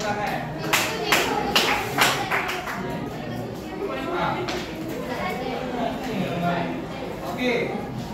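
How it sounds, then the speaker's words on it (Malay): Secondary-school students in a classroom clap hands in a short burst of sharp, uneven claps, followed by children's chatter and a teacher's voice in the background. "tepuk tangan"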